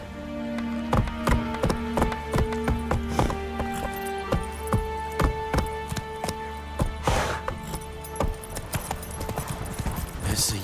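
Roach, the horse in The Witcher 3 video game, gallops in a steady rhythm of hoof clops over a musical game score for about ten seconds, loud and close, with someone speaking briefly.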